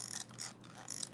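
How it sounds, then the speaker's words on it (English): Faint creaking and clicking from the plastic suspension of a Traxxas X-Maxx RC car flexing, in a few soft, scratchy bursts with a quiet ratcheting texture. "What you're hearing is just the plastic and stuff flexing."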